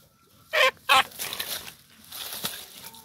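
A sick chicken with vitamin A deficiency gives two short, loud, close squawks, followed by quieter rustling and soft scuffling.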